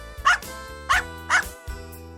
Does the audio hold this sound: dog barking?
yes